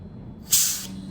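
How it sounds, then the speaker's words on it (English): One short burst of Star San sanitizer spray on keg fittings hisses sharply for about a third of a second over a low background hum. "It's a good idea to spray everything down some Star Sand"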